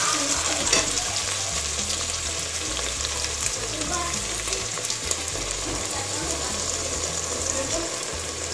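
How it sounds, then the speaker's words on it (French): Tomato sauce poured into minced meat frying in a pan for a Moroccan tomato sauce with peppers, giving a loud, continuous sizzle with bubbling and stirring, close and steady throughout. "je mets la sauce tomate"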